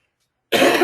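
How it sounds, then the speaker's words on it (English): A single tickly cough breaks out after half a second of silence, loud and close, in a short burst that fills the rest of the moment. "do apologise for the tickly cough"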